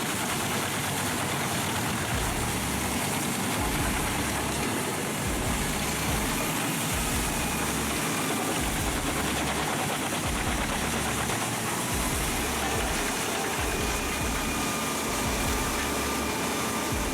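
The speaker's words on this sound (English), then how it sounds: "The Petzolato PTH 1400 8R20 All-Road runs a Scania 550 HP engine with a 1400 mm wide drum" A Petzolato PTH 1400 8R20 All-Road shredder with a Scania 550 HP engine and 1400 mm drum runs steadily, a loud, dense, continuous engine roar with a pulsing low-end throb and no breaks.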